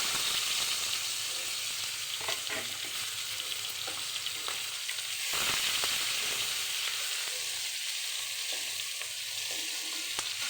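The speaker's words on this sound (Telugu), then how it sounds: "ఇప్పుడు ఇందులో ఉల్లిపాయలు వేపేద్దాం. ఉల్లిపాయలు పచ్చిమిరపకాయలు" Onions and green chillies frying in oil in a pan, a loud, steady, close sizzle that runs throughout, with occasional soft stirring scrapes and no talking.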